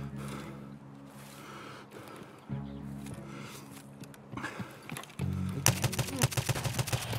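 Gunfire in the shooter Escape from Tarkov, scattered sharp shots building to a rapid burst of cracks near the end, over low droning tones and faint background noise.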